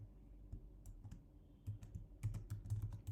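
Python code being typed on a computer keyboard, with soft close keystrokes in uneven bursts that grow denser and louder toward the end.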